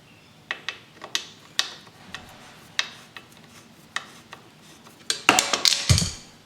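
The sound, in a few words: threading YZ125 rear brake lever into place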